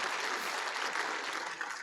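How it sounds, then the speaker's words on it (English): A conference audience at a defence technology summit applauds a speaker being welcomed on stage, a brief, even wash of many hands clapping, soft and somewhat distant, with no talk over it. "Yes, round of applause."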